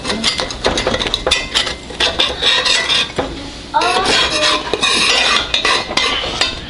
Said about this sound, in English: what I like to do is take a knife, go around the edge, and try to loosen it up a little bit.